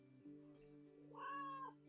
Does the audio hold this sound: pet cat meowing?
yes